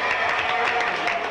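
An audience applauding during a Marx Brothers tribute show, a continuous, moderately loud patter of many hands clapping with a faint murmur of the crowd beneath.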